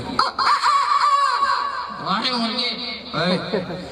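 A man imitates a hen with squawking, clucking vocal sounds during a stand-up comedy show, mixed with laughter and talk.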